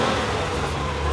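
An air-cooled Porsche 911 of the 993 generation drives past at a Paris supercar gathering, its engine a loud, steady, close roar that fills the moment without any talk.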